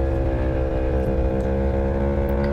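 An Aprilia Tuono V4 1100 motorcycle engine drones loud and steady at high speed, a sustained harmonic-rich roar with rushing wind and no talk.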